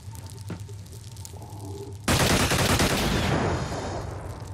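Gunfire in the video game Xenonauts: after a quiet stretch of game ambience, a sudden loud burst of rapid automatic shots erupts and rattles on, slowly fading.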